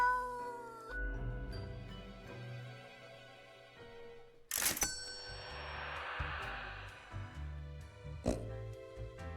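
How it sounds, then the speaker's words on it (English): A cat in the game Death and Taxes gives a soft purr and meow over layered game music and chimes, with a sharp bright accent midway. "Even glancing at the document, she purrs softly."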